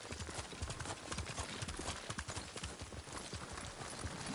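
Horse hooves clip-clopping at a steady riding pace in the samurai game Ghost of Tsushima, close and continuous with faint background ambience.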